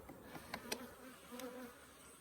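Honey bees hum steadily at an opened hive early in the morning, a continuous soft drone with a few louder buzzes as single bees pass close by, heard alone at low volume.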